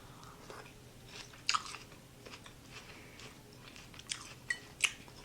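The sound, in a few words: chewing a crunchy fennel grape salad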